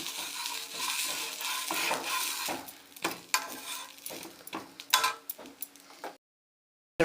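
Dosa frying in oil on a pan, a soft sizzle with scattered scraping and clinks from a utensil, growing more intermittent before falling silent near the end.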